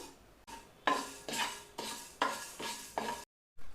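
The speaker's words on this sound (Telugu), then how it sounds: "ఇప్పుడు మెంతులను వేయించుకుందాం" Fenugreek seeds being dry-roasted in a pan for sambar powder, heard as a series of close, rhythmic scraping strokes of a spatula against the metal, about six sweeps, then a brief silence.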